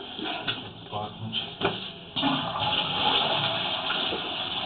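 A toilet flushes close by with a steady rush of water; brief knocks come first, then the flow swells into a continuous flush over the final half.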